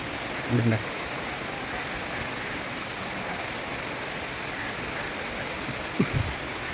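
Steady summer rain hiss in a garden fills the clip, with a couple of brief low bumps near the start and end but no clear talking.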